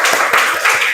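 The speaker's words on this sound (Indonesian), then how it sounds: "Tepuk tangan dulu untuk kelompok 2." Classroom applause for a group of students during a coding lesson, a brief burst of several hands clapping close by, with a few distinct claps standing out in one second.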